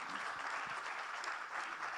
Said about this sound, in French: Merci Yaya, on l'applaudit